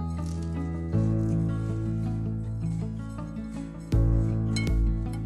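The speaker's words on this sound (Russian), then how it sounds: "И все хорошенечко перемешаю." Dandelion flowers stirred with sugar in a bowl make close, soft squishing and scraping with small clinks against the bowl, heard over steady background music.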